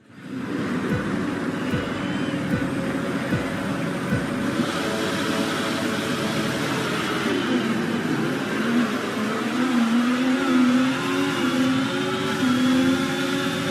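F1 race cars roar off the line at a sprint race start in the F1 24 video game, with a loud, sustained engine drone whose pitch climbs steadily as the cars accelerate, and no voices.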